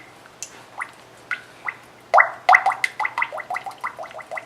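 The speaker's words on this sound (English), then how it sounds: "Now, depending on the pot you're using to fry, you should fill it about halfway full." Vegetable oil glugs from a bottle into a frying pot, first as scattered soft gulps, then as a quicker, louder run of rhythmic glugging.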